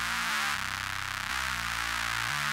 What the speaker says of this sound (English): And a little reverb.